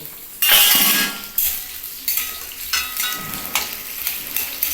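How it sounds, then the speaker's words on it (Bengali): Sliced onion rings and nigella seeds fry in hot oil, a loud sizzle bursting in and then settling into a steady crackle, broken by several scrapes and clinks of a spoon stirring in the pan. "আর দিচ্ছি পেঁয়াজ কালো জিরে আর পেঁয়াজ পেঁয়াজটাকে বেশি ভাজা যাবে না"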